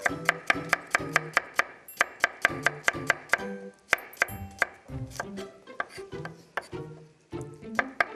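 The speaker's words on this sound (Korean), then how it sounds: "다 동글동글하게 그냥 이렇게 썰어 주시기만 하면" Cucumbers for oiji are sliced into rounds with a knife on a cutting board, giving a close series of sharp, rhythmic knocks with brief pauses between runs, no talking.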